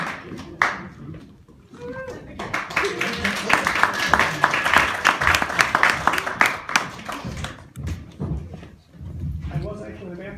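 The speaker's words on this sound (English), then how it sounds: "please give it up for Denny Green" Live comedy-club audience applauding and cheering as a stand-up comedian is welcomed to the stage, a dense burst of clapping swelling through the middle and fading near the end, with voices heard under it.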